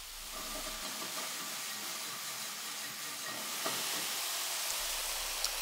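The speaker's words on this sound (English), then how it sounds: "Sizzle the tomatoes over medium-high heat until they get nice searing marks" Cherry tomatoes sear over medium-high heat in olive oil in a pan, giving a steady, close sizzle and hiss that runs throughout with a few faint pops.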